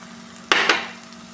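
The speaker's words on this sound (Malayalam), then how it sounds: "ഇനി എണ്ണയിൽ കിടന്ന് പൊടികൾ നന്നായി ഒന്ന് വഴറ്റി കൊടുക്കുക." Spice powders stir-fried in hot oil for a ginger-mango pickle, with two short scraping sizzle bursts over a low steady hum, close and fairly quiet.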